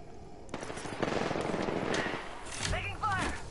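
Automatic gunfire from an Apex Legends match rattles in dense, sustained bursts over about three seconds, loud and close, with a brief voice call mixed into the clatter.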